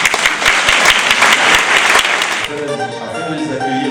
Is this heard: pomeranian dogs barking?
no